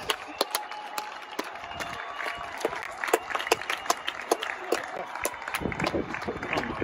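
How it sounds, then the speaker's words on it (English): Scattered clapping from residents on balconies for the NHS during a London lockdown evening, distant and uneven with sharp individual claps, under nearby talk. "So hopefully we'll see a few people clapping and it should be pretty cool."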